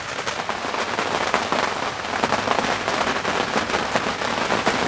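Steady rain falls outdoors on a turkey hunt among fresh green canopy, a dense continuous hiss of drops pattering on leaves and surfaces at close range, no voices.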